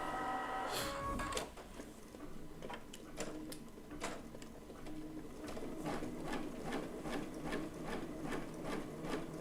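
A sewing machine sews a basting stitch through floated fabric for a quilt block, a rapid, steady mechanical chatter close by with sharp clicks and ticks scattered through the run.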